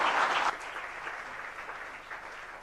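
An audience at a question-and-answer gathering claps for institute graduates, the applause loudest in the opening half second and then settling into a softer, steady patter to the end.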